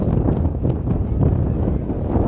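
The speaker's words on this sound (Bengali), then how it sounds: "কি সুন্দর জলটা, প্রচুর হাওয়া দিচ্ছে," Strong wind blows across the open water at Maithon Dam, a loud, buffeting rumble that batters the microphone continuously throughout.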